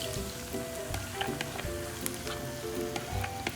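Diced tomatoes hit a hot pan for tomato sauce, setting off a close, crackling sizzle with scattered pops and a few faint spoon clinks.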